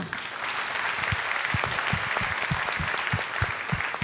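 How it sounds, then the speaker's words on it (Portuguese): A church congregation at a family-relationships forum applauds together, dense clapping with a few stronger low thumps standing out, steady and fairly loud from start to finish. "Você pode aplaudir ao Senhor?"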